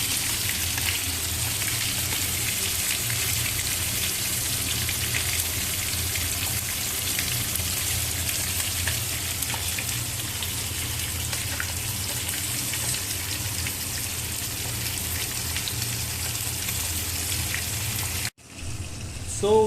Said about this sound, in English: the most important thing I love is this sizzling sound